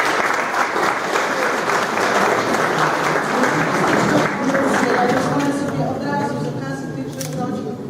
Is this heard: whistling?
no